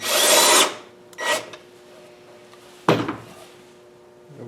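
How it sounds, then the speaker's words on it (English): Short bursts of a power drill boring pilot holes for floating shelf hanger brackets, one long run followed by two shorter pulses, close and fairly loud with quiet gaps between. "Drill a couple pilot holes."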